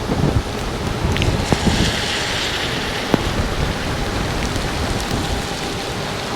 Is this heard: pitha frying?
no